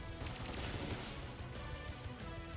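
Pin Missile attack in Pokémon Let's Go: a dense, continuous rapid-fire rattle of quick impacts, steady and fairly faint, with no voices over it.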